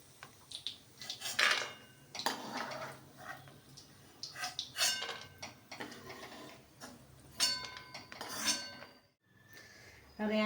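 Metal utensils clink and scrape against a pan while sweet sama shiro, a barnyard millet pudding made with ghee and raisins, is moved onto a plate, giving a string of close, light scraping and tapping sounds.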